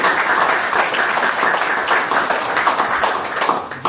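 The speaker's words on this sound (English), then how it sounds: "I want a round of applause for Yuri for coming out" An audience at a political meet-and-greet in Abbotsford gives Yuri Fulmer a round of applause: loud, dense, continuous clapping close by that holds steady for the whole stretch and only eases slightly at the end.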